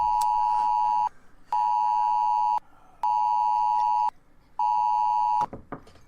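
Presidential emergency alert tone on a cell phone: a loud, harsh electronic beep sounds in four long, even bursts with short gaps between them, and a brief clatter follows at the very end.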